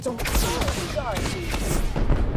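Fireworks in the movie Twisters go off in a rapid crackling barrage of pops and bangs, loud and continuous throughout, with voices mixed in.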